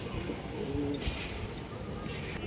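Silver-type pigeons at a breeder's loft coo softly in short low calls beneath a steady hum of background noise.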